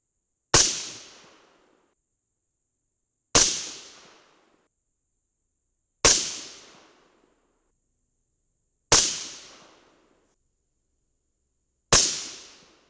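Five loud, sharp rifle shots from a .223 fired with S&B primers, spaced roughly three seconds apart at a steady pace, each a sudden crack that decays quickly, with no talking between them.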